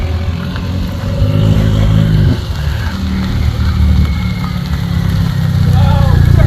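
A Cessna aircraft engine runs up loudly nearby, a heavy, droning roar that surges and holds at high power, with a voice speaking over it.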